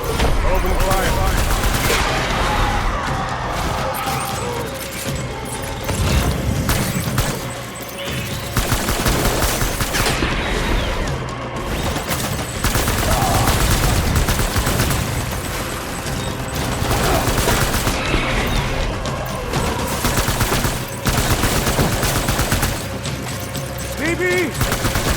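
Dense, sustained gunfire fills a firefight in the video game Death Stranding, with rapid bursts and loud reports sounding almost without pause, while voices call out underneath.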